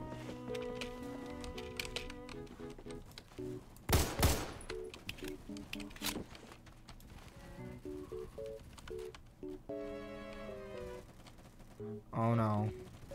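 Gunfire in the Phantom Forces video game, with quick scattered shots and a louder cluster of blasts mixed into game music and effects, fairly faint and under a busy in-game soundscape.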